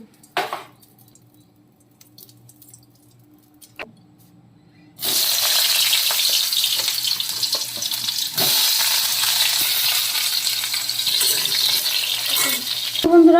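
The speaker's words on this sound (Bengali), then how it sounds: "আমার আলুগুলো লাল লাল করে ভাজা হয়ে গেছে" Cut potatoes frying in hot oil in a heated wok, a loud continuous hiss that starts suddenly after a few quiet seconds with faint clinks, then holds steady to the end.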